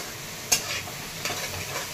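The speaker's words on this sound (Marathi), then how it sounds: "अद्रक हे टाकून घेतले आहे, छान परतून घ्यायचं आहे।" Chopped ginger, onion, garlic and green chili sizzle steadily in a hot pan, broken by a couple of sharp scrapes of a stirring spoon, close and alone without voices.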